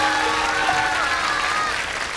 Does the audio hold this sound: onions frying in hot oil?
no